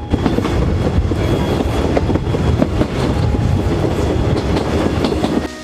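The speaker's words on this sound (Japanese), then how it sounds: "このように客車を牽引している蒸気機関車の姿を見ることができます" A Chichibu Railway SL Paleo Express steam locomotive hauls passenger cars, heard from on board as a loud, continuous rumble with rhythmic clickety-clack of wheels over rail joints.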